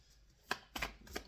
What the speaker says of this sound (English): One more shuffle, I don't know why, but one more shuffle.